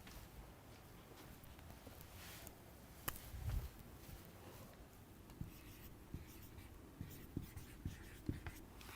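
A word being handwritten on paper during a poetry-writing session, heard as faint, soft scratching strokes with a few light taps near the end, low and quiet against a steady background hum.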